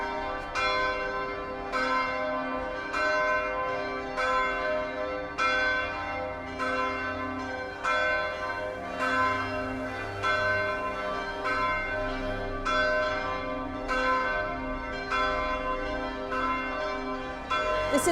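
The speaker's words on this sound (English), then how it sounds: "Look at the bells." Church bells in the bell tower of the Église des Accoules in Marseille's Panier neighborhood ring repeatedly for about eighteen seconds, loud resonant strikes at a steady rhythm with long ringing overtones.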